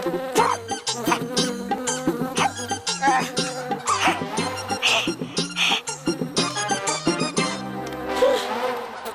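A housefly buzzes in a comedic scene from a superhero show, its drone running continuously across the whole stretch over a busy backdrop of rhythmic, tonal background music.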